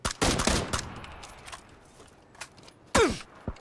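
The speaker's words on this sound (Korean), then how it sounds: "총소리 총소리" Gunfire in the battle royale game PUBG Battlegrounds: a loud opening burst of rapid shots, scattered single cracks after it, then another hard shot near the end.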